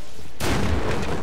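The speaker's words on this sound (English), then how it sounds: "There's an explosion." Grenade blast in the Killing Floor video game: after a brief quiet moment, a single loud, close explosion bursts and rolls into a sustained rumbling roar that fills the rest of the moment, with no talking.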